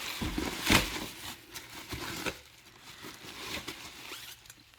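Plastic parts packaging for an R32 GTR widebody build is torn open by hand, giving a few close, crisp rips and crinkling rustles with a louder burst early on. No one speaks.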